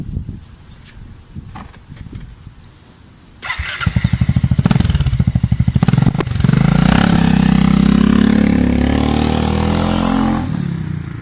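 A Honda Forza 350 scooter with a modified exhaust starts up after a quiet idle-like rumble. It goes to a loud, rapid pulsing throb and then a steady, raspy, close-up exhaust drone.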